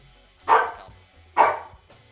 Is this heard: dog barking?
yes